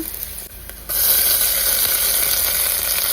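Fenugreek seeds drop into hot oil with browned onions. A brief quieter stretch jumps into a loud, bright, continuous sizzle close by.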